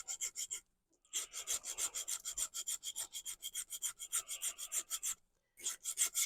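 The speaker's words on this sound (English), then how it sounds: "I'm not going to make you watch loads and loads of filing" Close, steady rasping of a file cleaning up the edges of a part for an O scale Mallard steam engine model, in quick rhythmic strokes with two brief pauses.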